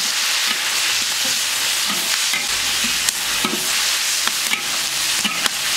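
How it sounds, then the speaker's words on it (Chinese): Ginger, garlic and steamed cured fish are stir-fried in a wok: a loud, steady sizzle fills the scene, broken by sharp scrapes and taps of a spatula against the metal, with no talk. "炒一下，我们给它盛出来"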